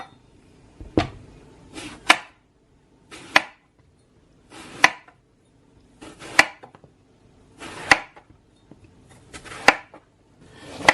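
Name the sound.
knife chopping eggplant into long strips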